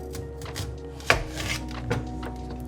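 A knife slices a peeled onion in half on a cutting board, with one sharp, close chop near the middle against soft kitchen background noise and no talking.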